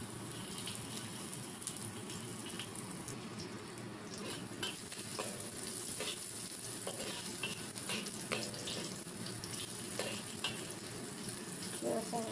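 Three cloves of garlic fry in oil in a pan, giving a steady sizzle with scraping stir strokes and light clatter throughout, close up with no voices.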